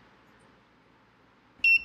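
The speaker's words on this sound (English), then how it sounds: "There it beeps again. So it doesn't always beep. It only beeps sometimes." Homemade Arduino electronics project emitting a single sharp electronic beep near the end, bright and tonal, after a stretch of near silence with faint background hum.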